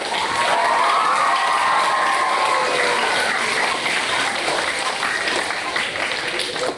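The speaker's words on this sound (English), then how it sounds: "so let's applaud them as well" Sustained applause and some cheering from a crowd at an elementary school ceremony honoring the food staff, a dense continuous wash of clapping at full volume.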